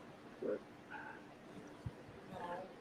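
A young dog gives a few short, high yips and whimpery barks spaced apart, fairly faint in a room, with some voice-like murmuring mixed in.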